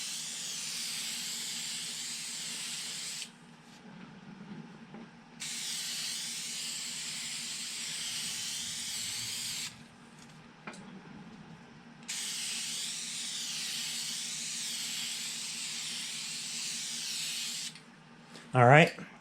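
A Duplicolor matte finish spray can hisses out a mist coat in three long bursts of several seconds each, separated by pauses. Quiet handling noises fill the gaps and a brief clatter comes at the end.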